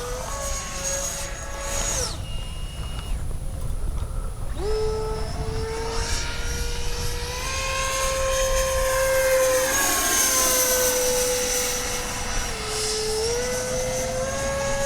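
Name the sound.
Kavan Skyfox L-39 80mm RC jet plane flying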